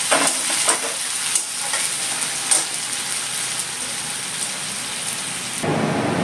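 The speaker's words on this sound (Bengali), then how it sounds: "পেঁয়াজ দিলাম, আস্তে আস্তে পেঁয়াজটা ভালো করে ভেজে নেবো" Onions frying slowly in a pan for an egg curry, a loud, dense, continuous sizzle with a few sharper crackles and spatters, heard close with no talk.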